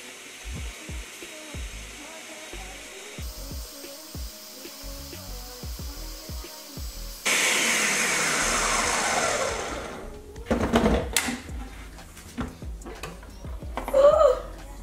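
A kitchen blender whirs through a kidney liver flush drink in separate bursts, a loud, close motor roar surging and dropping between pulses, with scattered clinks and handling noises around it.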